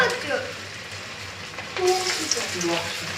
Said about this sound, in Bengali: চিকেন পকোড়া ছাড়ছি আস্তে আস্তে করে এর তেলে গরমে ছেড়ে দেওয়া হলো ভেজে ছাড়া হচ্ছে